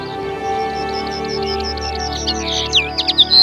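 Small birds chirp and sing in a nature area with many bird species, a steady series of high tweets over a constant background hum, busier with varied calls toward the end.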